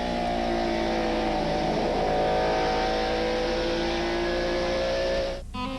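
Stock car engines roar around the Bristol, Tennessee short track during the 1994 Goody's 250, a loud sustained multi-car drone with rising and falling pitch as the field passes, cutting off abruptly near the end.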